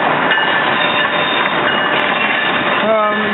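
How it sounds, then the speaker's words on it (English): Amtrak train 663, led by engine 939, rolls into Philadelphia's 30th Street Station with a loud continuous rumble and rail clatter, then a brief tonal horn-like blare near the end. "Here we got Amtrak train 663 coming into 30th Street Station here."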